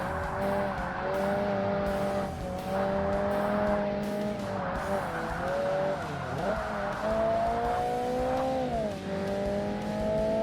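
An all-wheel-drive race car in Forza Motorsport on a point-to-point event holds a steady engine drone while its tires squeal through several long slides, the pitch bending as it drifts. The sound is continuous and close, with no talking.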